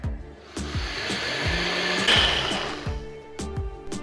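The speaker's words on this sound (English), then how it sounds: "Once drained, just transfer to your blender" A blender grinds soaked dosa grains with water in a home kitchen, a loud close whir rising and straining through a few seconds, interrupted by clunky bumps and knocks, with no talk.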